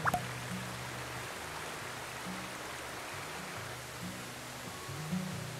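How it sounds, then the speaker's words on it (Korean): Svartifoss waterfall in Iceland, framed by black basalt columns, gives a steady, fairly faint broadband rush of falling water heard from a distance, with low tonal background sounds beneath. "검은 폭포라는 이름을 가진 스파르티 포스."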